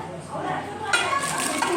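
Brief clatter of dishes and utensils knocking together nearby, a few light clinks over a soft room hum.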